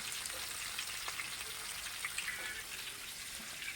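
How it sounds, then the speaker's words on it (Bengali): Fish fillets fry in hot oil with a faint, steady crackle and scattered pops, heard from a short distance at a late-night outdoor cookout, with no voices. "আমাদের ফিশ ফ্রাইটা কত সুন্দরভাবে ভেজে নেওয়া হচ্ছে, দেখতেই পাচ্ছেন।"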